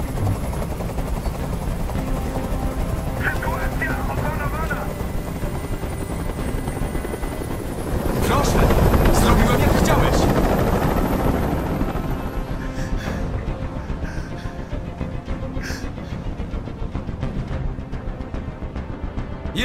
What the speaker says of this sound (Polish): Każ swoim odwołać helikopter!